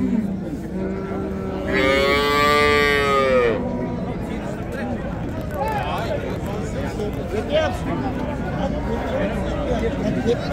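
Cattle moo at a Friday livestock bazaar in Pastdarg'om, Samarkand, where cows and calves are sold; one loud, drawn-out moo rises close by over a constant hubbub of people talking and market noise.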